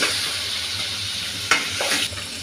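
Three or four potato pieces fry in spiced oil in a pan, a steady close sizzle broken by a sharp burst of louder crackling as they are stirred.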